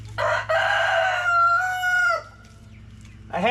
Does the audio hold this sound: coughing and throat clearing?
no